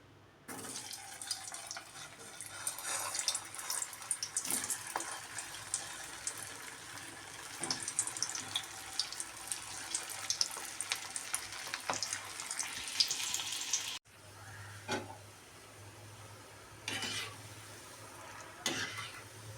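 Raw banana kola balls frying in hot oil give off a steady, fairly close sizzling hiss that runs throughout, with a brief break partway and a slightly quieter continuation.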